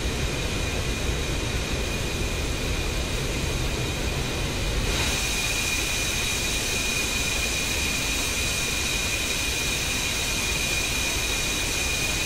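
An F-15 jet taking off in the DCS combat flight simulator game: a steady, loud, hissing engine roar that shifts in tone about a third of the way through and then holds a strong, even whine to the end, with no talking.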